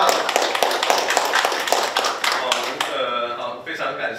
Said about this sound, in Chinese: 所以我们先掌声欢迎白伟全博士回家了